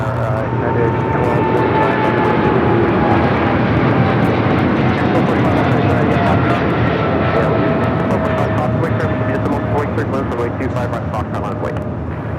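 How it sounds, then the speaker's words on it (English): Korean Air Cargo Boeing 777 freighter taking off at Los Angeles airport, a loud, sustained jet engine roar with a slowly falling whine, steady and unbroken throughout. "That is Korean Air Cargo 8208 taking off to Seoul on the 777 freighter"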